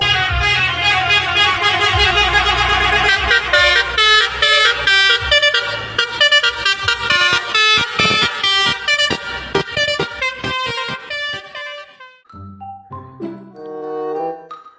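A Setia Negara bus sounds a musical multi-tone air horn, playing a loud melodic tune of rapid pulsing blasts with short gaps that winds down into a few separate toots near the end.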